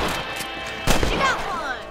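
Red Dead Redemption gameplay gives a pair of sharp gunshot cracks, one faint and one louder with a ringing tail, over a quiet outdoor game background.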